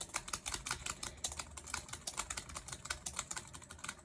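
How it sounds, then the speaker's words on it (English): Rapid, fairly close clicking of fingers typing on a computer keyboard, with irregular bursts of keystrokes and no talking. "All you hear is me clicking, right?"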